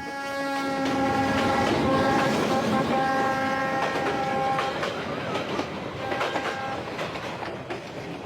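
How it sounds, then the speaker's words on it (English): Reunification Express train running southbound along the Vietnamese coast, with steady loud rumble and rhythmic clickety-clack of wagons, plus sustained horn-like tones near the start. "I'm leaving on the Reunification Express, southbound for Ho Chi Minh City"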